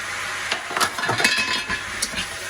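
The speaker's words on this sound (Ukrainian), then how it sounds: "гарно все перемішуємо" Vegetables with seasoning, dried garlic and a bay leaf are stirred in a pan for Bulgarian peppers in sour cream, giving close scraping and light clinks over a soft sizzle, with no talking.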